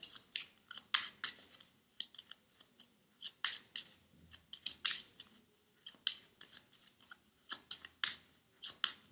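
Tarot cards being shuffled by hand, a run of crisp riffling snaps and soft brushing slides that come in bursts with short pauses, close and fairly quiet, with no talking.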